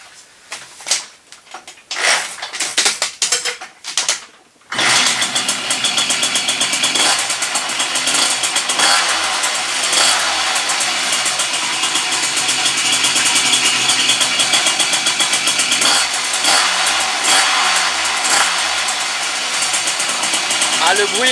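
A freshly rebuilt Puch moped engine is heard, with a few sputtering attempts and some talk at first, then it catches and runs with a loud, steady buzzing rattle.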